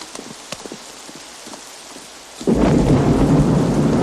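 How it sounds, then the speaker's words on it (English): A thunderstorm in the film Unforgiven: scattered faint knocks and distant rumbles, then a loud burst of thunder and heavy rain at midpoint that continues as a dense roar. "the rain is there. The storm is coming"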